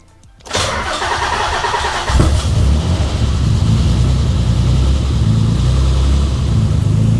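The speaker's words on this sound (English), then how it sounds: "I want to start the car and see how well this battery cranks this thing up" A Nissan 300ZX Turbo cranks briefly, then fires up and settles into a steady, loud idle with a deep rumble, close by and with no talking.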